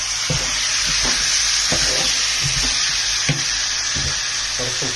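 Cut chicken sizzles and fries in a pan for chicken choothattam, a constant loud hiss of hot oil with soft periodic knocks and scrapes from stirring, close up and with no talking.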